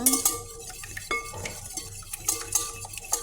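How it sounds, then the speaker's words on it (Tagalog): A whisk or spoon scrapes and clicks rhythmically against a bowl while egg with vanilla is beaten for harina puto batter, steady close stirring strokes with no talking. "Halo-haloin lang."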